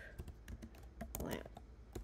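Rapid, uneven clicks of a computer keyboard as someone types a short command into Photoshop, with close, crisp keystrokes and a brief busier flurry midway.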